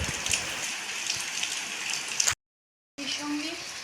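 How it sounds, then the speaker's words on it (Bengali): Heavy monsoon rain pours down in a steady broadband hiss, cut off by a short silence before the downpour returns, with a faint tonal sound in the background. "ভালোই বৃষ্টি পড়ছে, এখন কোনোভাবেই বেরোনো যাবে না"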